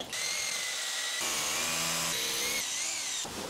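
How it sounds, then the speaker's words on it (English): A power drill runs in close bursts, drilling through during cable tray work in a domestic garage, its motor whine shifting pitch as it bites and pushes through material, loud and continuous for several seconds. "I'm just gonna drill that through"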